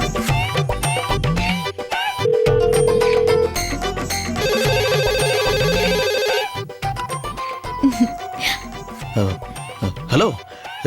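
A telephone ringing in a Tamil television drama scene, an electronic ringtone sounding in two bursts amid music and background sound, with no speech over the rings.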